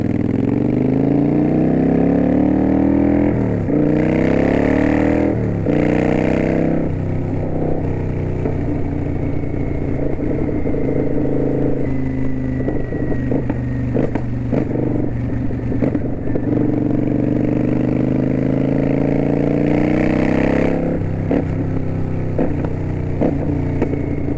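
A Kawasaki Vulcan 900 Custom Special Edition cruiser motorcycle being ridden, its engine loud and steady throughout with rising and falling revs through gear changes and a few crackling pops.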